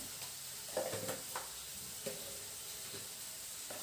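Quail egg fry being stirred in a pan after turmeric and chili powder go in, giving a soft, quiet sizzle with scattered scraping stir strokes close by.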